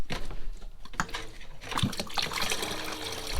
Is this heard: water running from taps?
yes